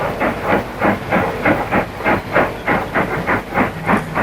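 Train running on rails on a line toward Derry, with a steady, evenly spaced clickety-clack rhythm of wheels over rail joints and a soft hiss, fairly close and with no voices.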